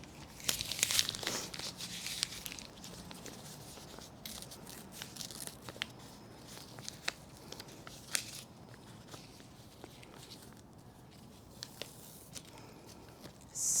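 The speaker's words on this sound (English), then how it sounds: "now I'm going to take the final piece of tape, and it's going to help anchor that down." Athletic tape being pulled and torn while a foot is wrapped, crinkling and sharp ripping bursts, loudest early on, then intermittent faint crackles throughout.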